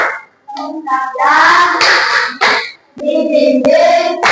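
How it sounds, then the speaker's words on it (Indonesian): Children and a teacher in a classroom clap in rhythmic bursts to a chanted 'tepuk semangat' class clap, with sharp hand claps mixed among loud sung and shouted voices. "mari kita tepuk semangat"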